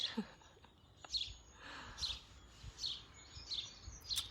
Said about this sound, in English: I've got some birds just landed in the tree next to me.